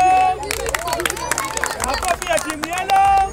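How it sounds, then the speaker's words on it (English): Children at an outdoor leadership play session clap for Team Green, a loud, busy patter of many small hands close by, mixed with excited shouts and crowd chatter. "Clap for Team Green!"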